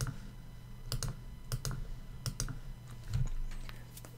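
Typing on a computer keyboard at a desk, scattered crisp key clicks in small clusters with pauses, close and fairly quiet, no speech.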